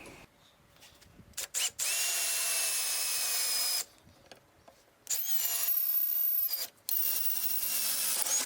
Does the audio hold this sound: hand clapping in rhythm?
no